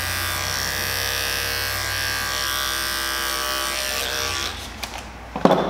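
Electric barber clippers with detachable blades blend a skin taper haircut, giving a steady close buzz that runs continuously before cutting off near the end, followed by a few brief handling clicks.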